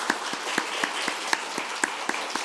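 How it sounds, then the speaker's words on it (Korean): A church congregation claps during a Sunday worship service to welcome newcomers, scattered individual claps ringing out in a loose, steady rhythm at moderate volume, with no voices over them. "박수로 좀 환영해 주시기 바랍니다."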